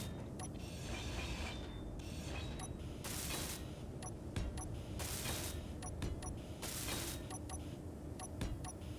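Welding tool in a salvage-only space survival video game, with three loud bursts of harsh broadband hiss about two seconds apart, surrounded by steady mechanical clicking and low machine rumble.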